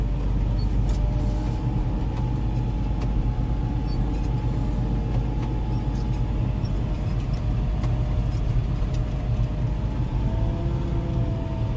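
Steady, loud diesel engine rumble with a deep constant drone inside the cab of a ten-plus-year-old Cat 140K motor grader grading crushed rock, running unbroken throughout with no voices.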